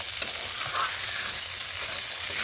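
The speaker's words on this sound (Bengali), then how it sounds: "কুমড়ো ও আলুগুলোকে দিয়ে নিচ্ছি নেড়ে নিচ্ছি এইভাবে সবগুলোকে একসঙ্গে বেশ ভালোভাবে কষিয়ে নিচ্ছি" Pumpkin and potato pieces being stirred and fried together in a pan give a steady close sizzle with faint scraping of the spoon throughout, no voices.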